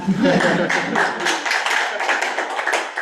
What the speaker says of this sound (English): Round of applause for Marcel.